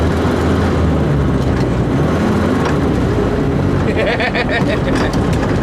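Vietnam-era military Jeep engine while driving, a loud steady rumbling drone with wind noise and road roar, continuous and close throughout.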